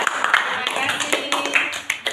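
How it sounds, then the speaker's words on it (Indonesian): A classroom gives a round of hand claps for a student group, with scattered, uneven claps coming through beneath ongoing talk. "Yuk kita kasih tepuk tangan untuk kelompok semangka."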